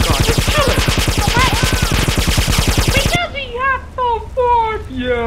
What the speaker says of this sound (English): we gotta use that submachine gun